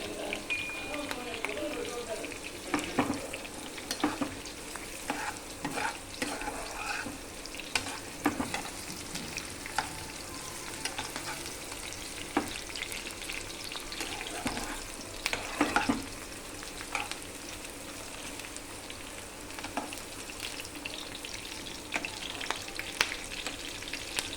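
Chicken pieces frying in a pan, a continuous oily sizzle with frequent stirring clatters and scrapes, moderately quiet, with a voice talking over it at times.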